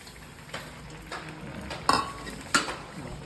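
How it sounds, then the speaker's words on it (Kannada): Ash gourd halwa with sugar cooks in a pan, giving a soft bubbling simmer broken by a few sharp spoon-against-pan stirring scrapes, close by with no talking. "ಇನ್ನೂ ಕುದೀತಾ ಇದೆ, ಚೆನ್ನಾಗಿ ಕುದಿಸ್ಬೇಕು"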